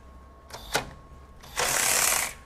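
A DeWalt DCF510 20V sealed-head cordless ratchet whirs in short trigger bursts, a brief buzz followed by a longer, louder mechanical whine, close and alone.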